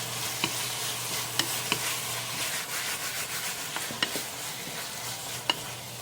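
Bitter gourd (goya) and miso stir-fried in a pan, with constant close scraping and rubbing of a utensil over a steady sizzle, marked by occasional sharp clicks.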